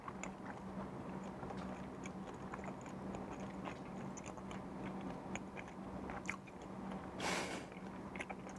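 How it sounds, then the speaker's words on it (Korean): Soft close-up chewing and slurping of spicy suanlafen with thick sweet potato glass noodles, with chili and garlic, as quiet wet squishy bites and a brief louder slurp near the end, with no talking. "먹어볼게요."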